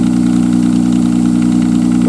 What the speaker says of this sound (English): Then the car is high idling too.